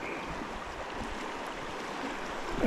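Fast, shallow river water rushes steadily past while salmon fishing, a soft continuous broadband burble with no voices.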